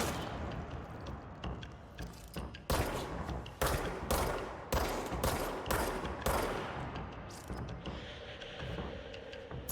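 Video game gunfire crackles in several rapid bursts, each a sharp, loud volley of shots with brief gaps between, building to a cluster of close, punchy reports before tapering into quieter rumble.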